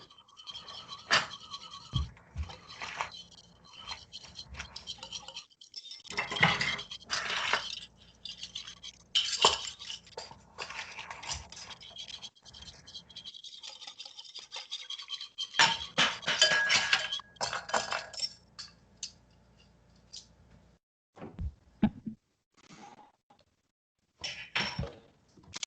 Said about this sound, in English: 1 teaspoon of corn syrup. And then we're going to whisk that together